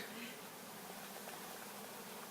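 A swarm of honeybees around a backyard hive sets up a dense, steady buzzing hum that fills the air continuously and evenly from start to finish.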